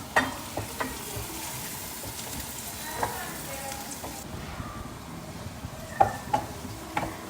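Turmeric and garam masala powder frying in a pan on low gas for a Kerala liver curry: a soft continuous sizzle with occasional spatula clinks and scrapes, some faint talk over it.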